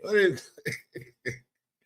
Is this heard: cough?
yes